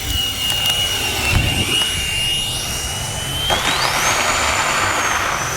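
A small FMS Rafale RC jet with a 64mm electric ducted fan flies overhead, a loud steady high-pitched whine that shifts in pitch as it passes and climbs, with constant rushing air noise.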